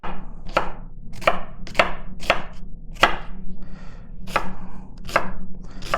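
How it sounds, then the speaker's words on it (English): A knife chops half a red onion on a cutting board, about a dozen crisp, close thuds in a quick, slightly uneven rhythm with no talking. "I'm going to go ahead and basically chop this"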